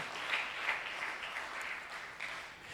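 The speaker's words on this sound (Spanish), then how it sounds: "Denle un aplauso al Señor fuerte" A church congregation claps in a steady, moderately distant round of applause, with a few sharper claps and shouts rising above the rest before the sound tapers slightly.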